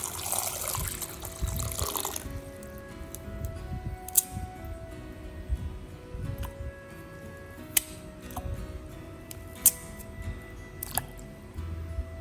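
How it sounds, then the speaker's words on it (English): Fresh ginger is washed and soaked in a bowl of diluted salt water: a burst of close splashing and sloshing opens, then quieter intermittent squishes, drips and small sharp clicks from handling the roots. "I usually soak the ginger in diluted salt water for about 5 minutes to fully soften any stubborn grime."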